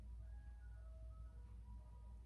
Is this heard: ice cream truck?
yes